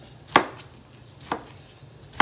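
Three separate knife chops on vegetables, about a second apart, sound crisp and close on a cutting board in a home kitchen, with no talking.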